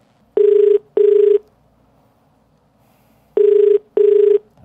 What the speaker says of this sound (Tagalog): Telepono yan, ringing na yan.